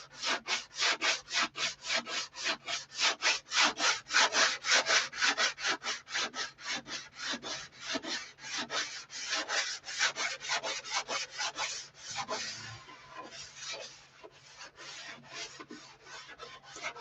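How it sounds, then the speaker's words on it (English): Rhythmic back-and-forth rasping of sandpaper on wood, close and steady, dozens of even strokes with a brief pause near the end. "I'll have to be sanding forever to get that off."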